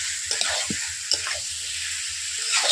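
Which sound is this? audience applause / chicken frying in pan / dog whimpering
chicken frying in pan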